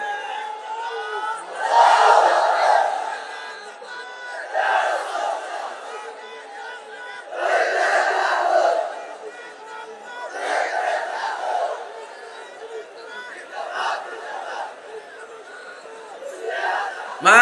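A large crowd at an Islamic religious gathering chanting takbir in response, repeated loud swells of many voices rising and fading roughly every few seconds, with murmuring between.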